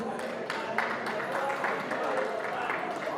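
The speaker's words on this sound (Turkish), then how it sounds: "Alkışlayalım bizim güzel gelimizi. Alkışlar gelsin." Applause from wedding guests for the bride, a steady wash of clapping from a crowd, moderately loud and continuous, with a voice talking over it.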